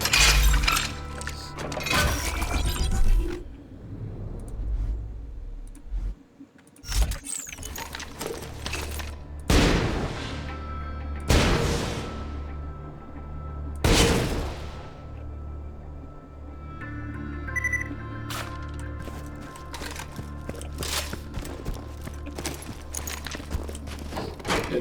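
Rocket rifle fire in the shooter game Borderlands 2, bursts of rapid shots and several long whooshing blasts that trail off, loud and close, with clinks and gameplay effects in between.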